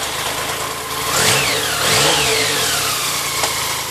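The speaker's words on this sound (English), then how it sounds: "Okay, put the choke on, ignition, push the starter button." A BMW K75 motorcycle engine cold-starts with the choke on: a brief starter whir catches into a steady mid-pitched idle with two rising revs, close and fairly loud, no talking.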